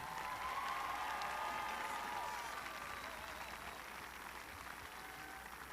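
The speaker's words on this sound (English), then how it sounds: "Let's have a round of applause for all the scholarship winners" Applause for scholarship winners at a graduation ceremony, heard faint and distant as a steady wash of clapping from a large crowd, with some thin tonal sounds above it.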